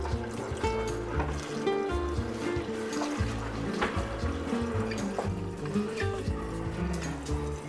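Water pours into a jar to cover food set to ferment with cumin and garlic powder, a close, continuous gurgling fill with bubbling trickles and small splashes.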